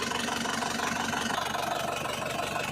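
A steady engine idles up close, a continuous rhythmic churning hum with no talking.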